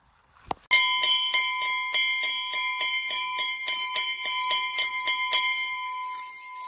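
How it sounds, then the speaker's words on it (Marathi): A metal bell rings rapidly and repeatedly with a bright, sustained ringing tone, struck many times in quick succession after a single sharp knock, calling villagers to a cleaning at a Gavaldev shrine. "अशी घंटा वाजवून सगळ्यांना बोलवलं जातं साफसफाईसाठी"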